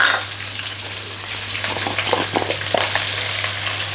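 Onions, green chilies and cashews dropped into hot oil in a pot for egg kurma, a loud, dense, continuous frying hiss with faint crackles and a low steady hum underneath.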